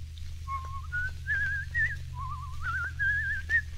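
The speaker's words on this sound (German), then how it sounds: "Sie dürfen aber hier nicht die lustige Witwe pfeifen" A man whistles the tune of Die lustige Witwe, a clear wavering melody of short phrases, close and alone over a low hum.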